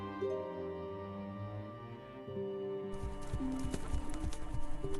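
Horse hooves clip-clopping in the strategy game Stronghold Kingdoms, a steady rhythmic trot under continuous game music, moderately loud.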